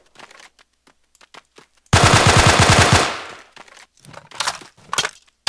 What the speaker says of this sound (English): Still taking fire somewheres.